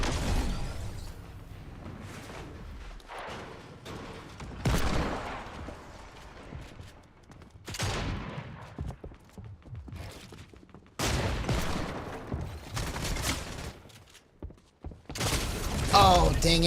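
Hand cannon fire in a shooter video game: scattered bursts of gunshots and impacts come in clusters over game ambience, fairly loud against the background.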